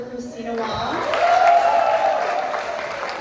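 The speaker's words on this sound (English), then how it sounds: "Can we get another round of applause for Kristina Wong?" An audience claps for performer Kristina Wong at an Arts Emerson performance event, steady applause swelling to a peak around the middle and holding loud to the end, with a brief voice at the start.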